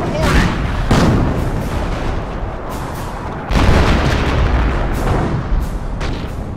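Artillery fire in the Company of Heroes strategy game: several deep booms and bursts, two of them sharper and louder, rumble through a busy battlefield mix with voices speaking over the barrage.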